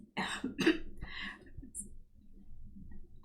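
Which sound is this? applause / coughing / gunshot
coughing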